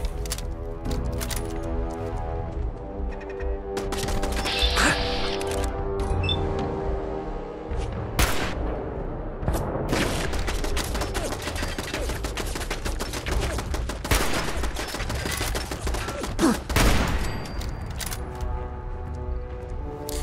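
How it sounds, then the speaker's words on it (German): Gun turrets in the video game Fallout 4 fire in loud, rapid bursts of automatic gunfire, with sharp single cracks scattered among sustained volleys over a rumbling game backdrop. "Zum Glück sind die Geschütztürme ziemlich ungenau."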